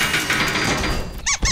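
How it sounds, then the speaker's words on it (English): Cartoon cage door squeaking shut, a loud drawn-out creaky squeak followed by two quick sharp squeaks at the end, no talking. "Let's close the cage door before Pippin escapes again."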